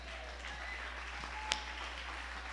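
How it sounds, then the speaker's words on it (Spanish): Congregation in a church service gives a round of applause, a steady wash of clapping from many hands at a distance, with one sharper clap standing out midway. "Podemos dar otro fuerte aplauso a nuestro Dios"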